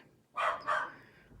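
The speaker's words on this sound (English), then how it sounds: "sorry about the dog noise." A dog gives two short barks in a quiet room, loud and close, with faint room noise between.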